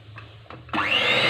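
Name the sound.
electric mixer beating chocolate cake batter with melted chocolate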